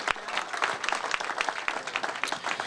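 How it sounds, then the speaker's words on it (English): Audience applause at the reopening of a State Fair Coliseum, a dense wash of many hands clapping, steady and moderately loud throughout the short stretch with no speech over it. "Give Julie a round of applause."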